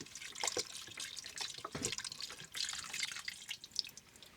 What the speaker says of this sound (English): then we're going to add in 4 cups of beef broth